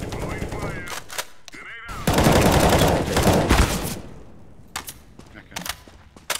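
Bursts of rapid automatic gunfire crackle in a competitive tactical shooter match, loud and close, with short quieter pauses between volleys and players talking over the action.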